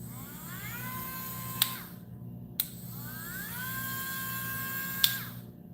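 A battery-powered Dremel rotary tool, charged by USB-C, spins on a failed board, sending out high whining bursts that ramp up in pitch and then cut off sharply, with clicks between runs and no voices.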